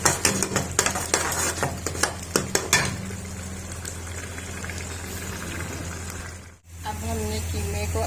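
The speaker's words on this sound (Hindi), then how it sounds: "अब हमने कीमे को अच्छे से भून लिया है।" A spoon clinks and scrapes rapidly against a pan of minced beef keema for a few seconds. Then a steady frying hiss takes over under a low, constant hum.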